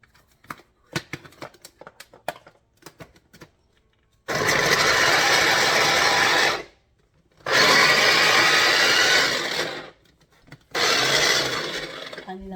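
An electric food processor chops onion in three loud, steady whirring bursts of a couple of seconds each, with short pauses between them. Quieter clicks and handling noises come before the first burst.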